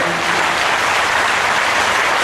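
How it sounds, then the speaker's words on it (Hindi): Loud, dense audience applause fills the whole stretch, steady and close at an Indian Gou Katha religious discourse, with no talking over it. "जरा जोरदार तालियों के साथ स्वागत कीजिए।"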